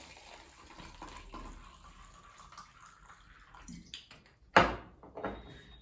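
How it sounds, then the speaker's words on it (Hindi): Tap water poured into a glass holding a little cumin, a soft running wash that builds into one louder, splashing gush near the end, close by and with no talking. "और मैं इसमें अब डाल रही हूँ पानी।"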